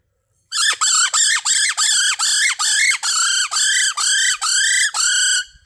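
A handheld call imitates a bird in distress, giving about a dozen rapid, loud, shrill squawks in an even pulsing rhythm, close and alone.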